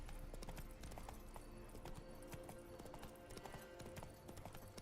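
The horse Roach trots in The Witcher 3, with steady, rapid hoof clip-clops under continuous game ambience and background noise at a moderate, consistent level.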